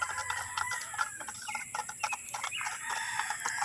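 Hens clucking close by after laying eggs, with a few short clucks rising over a steady background hum.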